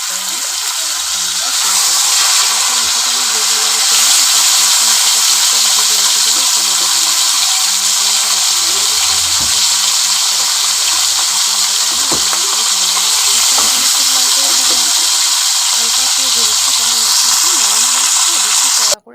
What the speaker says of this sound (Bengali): এবার কালো জিরেটা আমি ফোড়ন দিচ্ছি